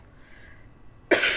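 A single sharp cough breaks out abruptly near the end after quiet room tone, loud and close to the microphone.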